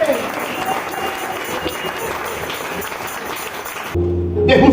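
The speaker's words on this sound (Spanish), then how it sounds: "Den un aplauso al Rey porque él se lo merece." A church congregation claps together during a sermon, a broad wash of applause that holds for about four seconds and then cuts off sharply, followed by a brief snatch of music or voice.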